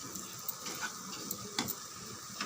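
Chicken pieces frying with roasted spice powder in a pan, a faint steady sizzle with small scattered clicks and stirring taps, no voices.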